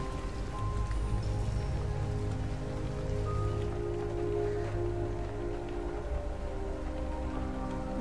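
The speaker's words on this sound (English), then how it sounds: "It's still raining." Steady rain falls in the video game Detroit: Become Human, a dense, continuous patter of drops on surfaces holding an even level for the full stretch with no voices.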